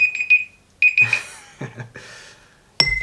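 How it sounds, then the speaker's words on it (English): Bright electronic beeps from an unidentified source sound in short bursts, a quick cluster at the start, another shortly after and a final sharp beep near the end, with soft rustling between. "I have no idea where that beeping's coming from"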